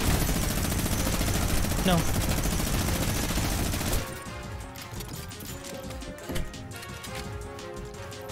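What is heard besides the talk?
minigun firing in the video game Fortnite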